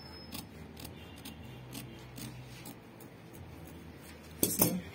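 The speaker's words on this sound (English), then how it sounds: "I'm just going to cut it and come from this side and cut out this side" Scissors snipping fabric to cut out keyhole necklines, soft quiet clicks and snips in an irregular rhythm, ending with a louder close clack.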